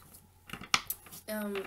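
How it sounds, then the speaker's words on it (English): A deck of tarot cards is shuffled in short snapping, riffling bursts between quiet moments, close by, with a voice briefly audible near the end. "And I guess I'll just be shuffling while I'm talking."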